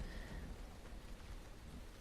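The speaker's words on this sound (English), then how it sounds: "and it's raining." Steady rain falling in the video game Uru, a continuous broadband hiss with low rumbling underneath, evenly loud throughout with no voices.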